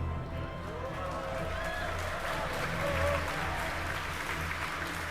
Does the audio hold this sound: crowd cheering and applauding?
yes